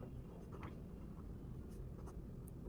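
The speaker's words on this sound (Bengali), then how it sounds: "আমরা এখন এই ব্যাখ্যাটি লিখব।" Pen or marker writing a trigonometry explanation, faint scratchy strokes in short irregular bursts over a steady low room hum.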